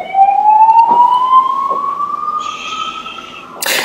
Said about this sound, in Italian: c'è una sirena